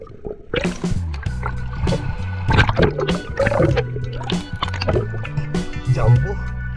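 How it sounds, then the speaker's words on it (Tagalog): Big sea waves slosh and splash around a small boat at sea on a spearfishing trip, with loud continuous water surges over a steady motor drone while people talk. "At ang lalaki ng alon."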